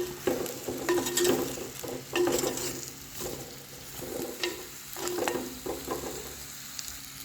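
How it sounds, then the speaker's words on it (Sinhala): Mango pieces stirred in a hot pan sizzle and fry close up, with repeated scraping stirs breaking through a steady crackling hiss. "දැන් හොඳට කවලම් කරගන්න."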